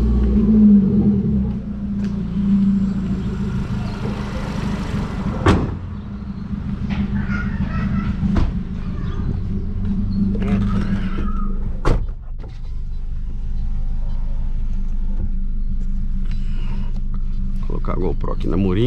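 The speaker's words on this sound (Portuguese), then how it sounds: "Coloquei álcool aqui, vamos dar uma volta pra ver." A Renault Sandero RS running on ethanol rumbles steadily while being driven, heard from inside with low engine drone, a few clunks and door-like knocks, and people talking over it.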